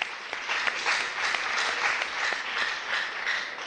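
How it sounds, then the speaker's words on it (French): An audience applauds students at a school quiz competition, with steady, moderately loud clapping from many hands that swells and dips slightly throughout. "On les applaudit."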